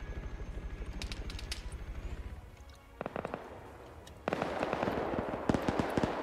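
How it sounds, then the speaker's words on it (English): BMP autocannon rounds fire and impact in Arma 3: a rapid, rhythmic thudding burst of shots, then a pause, then sharp crackling impacts and a louder, denser volley of bangs over a steady background hum. "There's those BMP rounds coming in."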